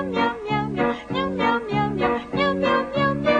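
A cat food jingle: repeated sung meow sounds in a bouncy rhythm, voices imitating a cat's meowing, loud and close.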